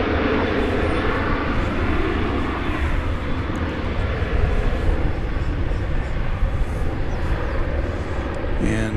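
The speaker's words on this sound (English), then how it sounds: "United Flight 380 to Chicago O'Hare is coming into view" A United Airlines Boeing 737-700 on approach to DFW, landing into the wind, makes a loud, continuous jet rumble and whoosh that holds steady throughout, with no one speaking.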